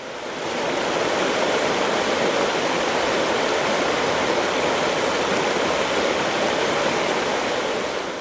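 The river by the trail from Carcaboso to Aldehuela del Jerte flows with a steady, dense rush of water that stays constant and close throughout, with no voices.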